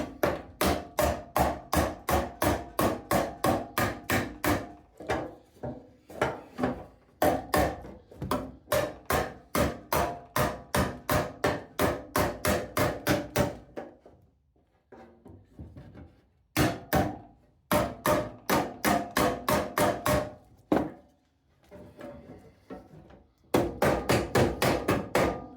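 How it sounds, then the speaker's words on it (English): Hammer blows knock small dents out of a metal toolbox in rapid, sharp, ringing strikes, close and loud, coming in long rhythmic runs broken by short pauses. "I got to bang a couple of little dents out here"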